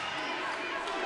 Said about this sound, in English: This large Eagles crowd trying to get their team rolling.